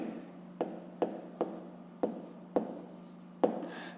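Pen or chalk writing on a board gives a series of about seven sharp tapping strokes with short scratchy trails, irregularly spaced and close, in a quiet room.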